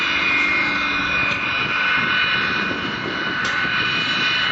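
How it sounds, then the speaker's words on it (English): A Sukhoi Su-26 aerobatic aircraft with a large rotary engine performs manoeuvres at the Biggin Hill Airshow 2006, its loud, steady engine drone filling the whole stretch with only slight swells and dips. "uses the gyroscopic forces of that huge rotary engine to perform some amazing manoeuvres"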